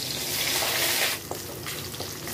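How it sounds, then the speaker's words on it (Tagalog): Garlic, then onion, sizzling in a little cooking oil in a pan, a steady bright hiss that drops slightly as the onion goes in. "Igisa na ang bawang. Isunod ang sibuyas."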